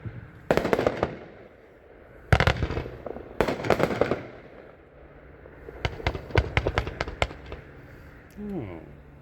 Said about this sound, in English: Next up is number 113 with the new label this year. It's 36 shots. This is Lick the Rainbow.